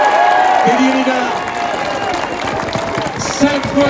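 A large audience gives thunderous applause with some cheering for a returning Olympic judo medallist at a celebration, a dense steady wash of clapping that carries through, with a voice speaking over it at times.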